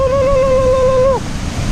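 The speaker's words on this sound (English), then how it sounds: "That's beautiful waterfall." A forest waterfall gives a loud, steady rushing roar with no break, and a brief tonal whistle or hum rides over the water for the first second.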